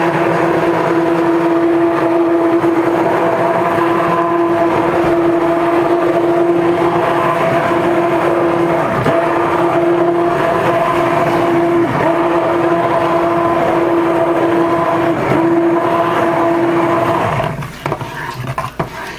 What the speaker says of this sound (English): I stick blend a while, then I stir it.